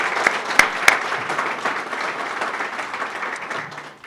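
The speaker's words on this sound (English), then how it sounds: "Let's give him a round of applause." Guests at a business luncheon give a short burst of applause with a few sharp individual claps at the start, then a softer, even patter that slowly fades.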